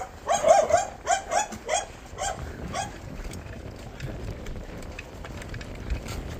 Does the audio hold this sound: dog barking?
yes